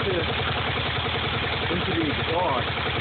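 A 10hp Yanmar diesel fire pump engine runs steadily close by, with a rapid, even low-pitched chugging pulse and a mechanical rattle throughout.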